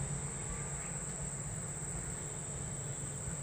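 An insect on a chili plant gives off a steady, continuous high-pitched buzzing whine over low background rumble, unbroken and fairly faint throughout.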